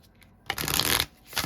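A single riffling shuffle of a tarot deck, a quick burst of papery card flutter lasting about half a second after a quiet pause, followed by a softer rustle as the cards settle.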